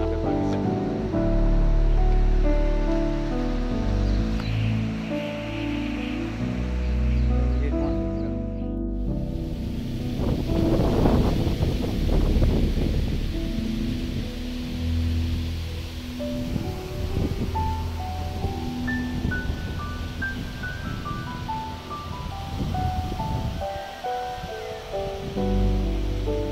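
River water rushes steadily in the rain, a dense continuous wash that stays loud and close throughout with no voices.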